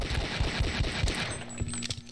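Rapid automatic gunfire from the video game Half-Life: Opposing Force, a dense burst of repeated shots for about a second and a half, then a few scattered louder reports, with no talk.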